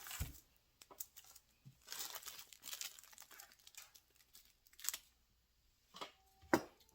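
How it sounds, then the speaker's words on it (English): Scissors snip and crinkle through wooden car air fresheners in short, scattered bursts, close and fairly quiet, with pauses between the cuts. "I'm just going to trim them with the scissors"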